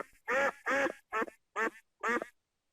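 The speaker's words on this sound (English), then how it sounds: "The duck quacked back." A duck quacks five times in a close, even rhythm: loud, nasal calls separated by short silences, with no other sound around them.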